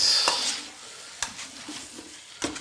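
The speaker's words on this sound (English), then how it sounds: "But you want to just stir fry it long enough for it to get nice and aromatic." Beef stir-fries in a pan with ginger and garlic: a gentle sizzle under a few sharp scrapes and clinks of a utensil against the pan, spaced irregularly and close up.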